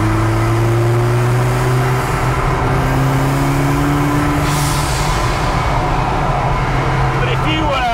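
A 300hp 16-valve turbocharged ZCars Hillman Imp engine revs loud and close, its rising drone steady throughout, with a voice talking over it.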